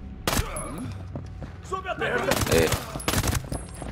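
Gunfire in the tactical shooter Ghost Recon Breakpoint, with sharp bursts of automatic rifle fire in short volleys and separate single shots, fairly close. Someone talks between and under the shots.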